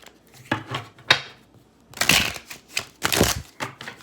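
A deck of Mythical Creatures Tarot cards being shuffled by hand, with several quick papery riffles and soft card slaps coming in bursts, close and moderately loud, with no voices.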